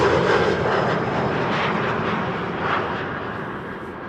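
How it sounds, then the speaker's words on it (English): A KLM Embraer 175 jet arriving at Amsterdam Schiphol, its engine roar loud and near at first, then fading gradually as it passes. "First up, KLM flight 1830 arriving from Stuttgart, Embraer"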